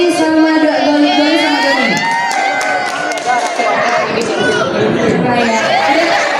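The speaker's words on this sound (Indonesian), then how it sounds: "kita tepuk tangan dulu ya Timothy" An indoor audience cheers and chatters loudly through the whole stretch, with children shouting and whooping over a dense crowd roar and a host speaking on a microphone.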